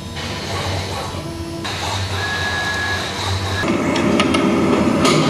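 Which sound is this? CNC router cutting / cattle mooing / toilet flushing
CNC router cutting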